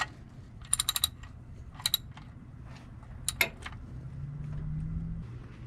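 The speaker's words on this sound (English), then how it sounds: "Now I just got to tighten up the drain plug and add some oil." Oil drain plug being tightened on a 2006-2010 Hummer H3, heard as several quick bursts of metallic ratchet clicks spread across the clip over a low steady hum, with no talking.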